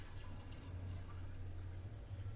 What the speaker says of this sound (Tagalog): Tsaka ko dadagdagan ng malamig na tubig.